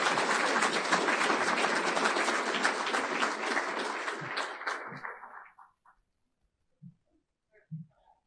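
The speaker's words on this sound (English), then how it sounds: "Let's have another round of applause for Jenna Moran." At the 73rd annual Heart of Wisconsin Chamber of Commerce awards banquet, a room of guests applauds loudly and steadily, then tapers off around five seconds, leaving near silence broken by a few faint knocks.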